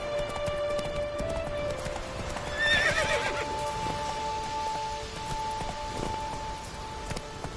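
Roach, a horse in a video game, gallops with rhythmic hoofbeats and lets out a clear neigh partway through, over a steady patter of rain and faint tonal game sounds.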